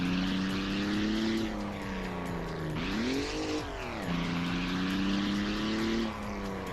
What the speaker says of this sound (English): That sounds like a high revving radial?